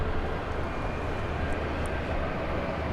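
A McDonnell Douglas MD-11 airliner at DFW Airport at night, a loud steady engine roar filling the air, broad and unbroken, with no talking.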